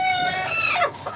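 Aseel fighting chickens in a home pet room giving a short clucking call, close and clear, one brief bird vocalization standing alone with no talk.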